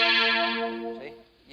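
Guitar synthesizer set by its duet switch to sound in fifths, one short processed chord sustaining and fading with a brief pick noise near the end.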